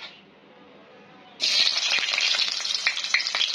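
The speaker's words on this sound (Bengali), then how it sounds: "পেঁয়াজ দিলাম গরম করে অয়েলে।" Onions hit hot oil and start frying, a sudden loud sizzle after a quiet moment, then steady crackling and spitting close by.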